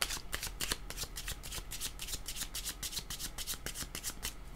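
Tarot cards are shuffled rapidly by hand during a reading, giving a steady, close run of crisp riffling bursts that continues throughout with no voices.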